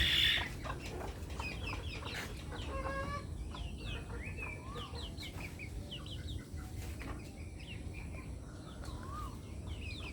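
Chickens in a coop on a small farm cluck and chirp in short scattered bursts, fairly faint and slightly distant, over a constant low background hum with no talking.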